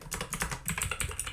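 Rapid keystrokes on a computer keyboard while entering code, a dense run of crisp clicks close by with no talking.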